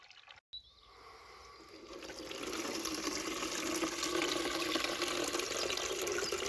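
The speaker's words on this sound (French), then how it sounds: "Je vais remplir une bouteille pour mes semis." Nettle fertilizer liquid pours into a bottle, starting after a brief knock and swelling into a steady, rising gurgling stream as the bottle fills.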